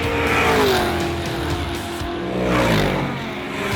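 Pontiac race car with an 8-liter V8 roars loudly at close range in a historic touring-car race, its engine note climbing and falling through gear changes, with a brief tire squeal, continuous and dense throughout.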